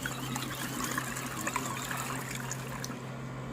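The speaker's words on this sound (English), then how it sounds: "it's starting to agitate these 2 clothing items" A portable washing machine agitating two clothing items in water, with a steady close sloshing and trickling churn and a low motor hum underneath, no voices over it.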